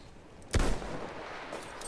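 A single sharp sniper rifle shot from Battlefield 1 cracks out loud and close, then rolls into a lingering echoing tail over quiet game ambience.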